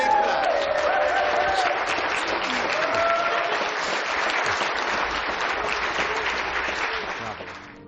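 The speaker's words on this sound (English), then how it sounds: "Let's give them a big clap." Wedding guests applauding a newly married couple right after the ceremony, a dense, loud, steady wash of many hands clapping that holds for several seconds with voices and cheers mixed in, then slowly fades.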